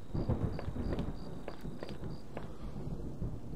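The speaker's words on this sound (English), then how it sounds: "Sounded like it was going to start raining again." Rumbling thunder rolls under a steady patter of rain in a video game, a low continuous growl with faint repeating tones above it, no voices.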